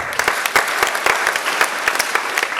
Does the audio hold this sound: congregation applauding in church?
yes